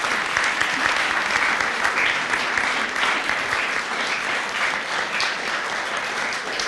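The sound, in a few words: applause at graduation ceremony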